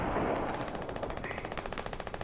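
Rapid automatic gunfire from a P90 in the video game Fortnite rattles in a fast, even burst of shots lasting about two seconds, moderately quiet and heard alone.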